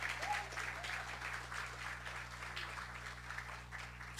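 A church congregation applauds in a large reverberant room, a continuous soft wash of many hands clapping at moderate distance over a steady low hum, with no voices on top.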